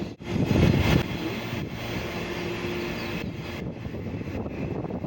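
The Karaikal–Thanjavur passenger train runs slowly toward a small station, heard from on board as a steady low rumble and rattle of the carriage, with a brief louder rush near the start.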